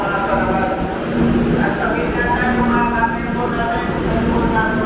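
An MRT Line 3 train runs between Quezon Ave and Guadalupe with a steady rumbling rail drone and whining motor tones, heard from inside amid crowd noise and voices talking.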